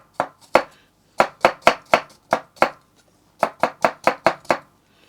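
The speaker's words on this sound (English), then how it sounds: "Roughly chop up your garlic," A knife roughly chops garlic on a cutting board in crisp, close, sharp knocks, irregular bursts of taps separated by short pauses.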